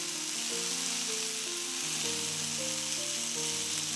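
Pork patties fry in a pan with a steady, close sizzle that stays loud and even throughout, without any talking.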